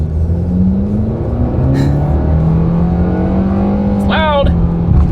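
A 2025 Nissan Kicks accelerating from inside the cabin, its engine drone climbing steadily in pitch, with a brief shift-like dip and a short voice near the end over the continuous loud rumble.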